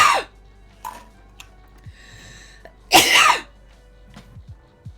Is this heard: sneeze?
yes